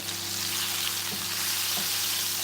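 Cocoyam leaf stew sizzles and bubbles in a pot as it is stirred round for a Ghanaian dish, a steady close frying hiss with a couple of soft spoon scrapes.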